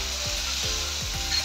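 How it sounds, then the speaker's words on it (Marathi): Chopped onion sizzles steadily in a hot pan, frying until golden for a capsicum (Dhobli Mirchi) sabzi, with a few soft scraping stirs of a spatula breaking through the constant close hiss. "कांदा सोनेरी कलर येईपर्यंत आपण परतून घेऊया."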